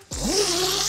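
A zipper pulled shut along a panel of a Nash Bank Life camo pro fishing gazebo, one continuous close, loud rasping zip lasting just under a second.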